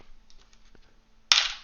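After a few faint taps, a 2-euro coin clacks down sharply onto a hard surface and rings briefly before fading.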